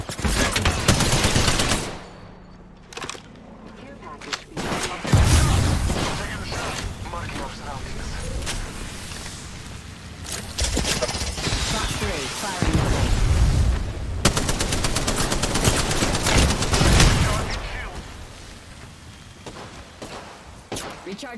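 Heavy Apex Legends gunfire crackles in dense, loud bursts and sustained automatic volleys, with a short lull near the start, while character voice lines and talk run over the shooting.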